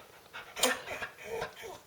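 A dog pants and whimpers close by on a kitchen floor while waiting for a cracker, short breathy huffs mixed with soft high whines in an uneven rhythm.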